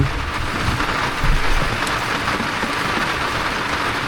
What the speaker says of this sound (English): since it's raining, as you can hear in the background